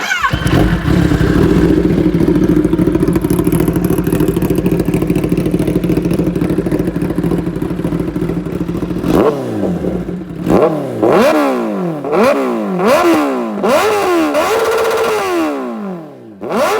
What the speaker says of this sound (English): और अभी ZX10R with एक एससी प्रोजेक्ट शॉर्ट कैन।